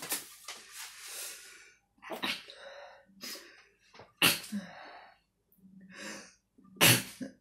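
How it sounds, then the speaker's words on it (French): A person sneezes several times in a row: sharp, close bursts separated by short pauses, with snorting breaths and throat noises in between. "Je vais encore éternuer, c'est un truc de fou."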